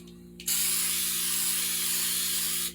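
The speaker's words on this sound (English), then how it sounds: "I'll spray this on the inside with this Flex Seal" A Flex Seal spray can sprays inside a Judge Dredd helmet in one loud, continuous hiss lasting about two seconds before it cuts off abruptly.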